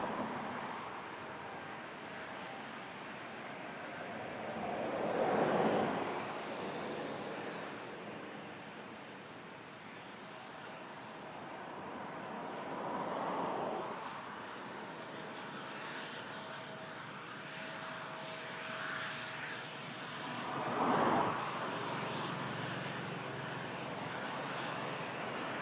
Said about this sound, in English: Porter E195 headed to Edmonton.